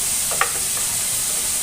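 Garlic paste sizzles in hot oil on a high flame while fried rice is being cooked, a steady close frying hiss with a couple of faint stirring clinks.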